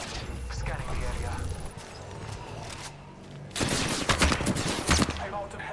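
Video game gunfire in Apex Legends, rapid automatic shots and impacts that intensify into a dense burst near the end, with players talking over the action.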